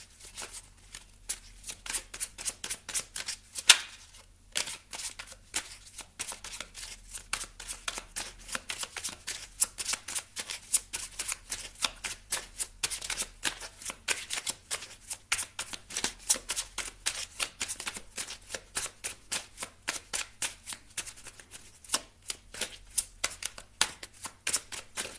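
A deck of druid oracle cards is shuffled over and over, giving a steady, dense stream of close, papery riffles and flicks for about twenty-five seconds, with a brief pause near the start and no speech.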